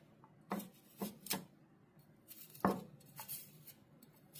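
Knife scraping and cutting while potatoes are peeled by hand in a kitchen, a few quiet separate strokes with short scraping bursts and gaps between them, and no talking.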